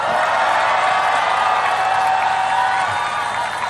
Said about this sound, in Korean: 큰 응원과 박수 부탁드리겠습니다